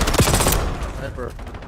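Close gunfire erupts in the Black Ops 7 video game: a quick burst of sharp, loud shots in the first half-second, then fading echoes and small clicks.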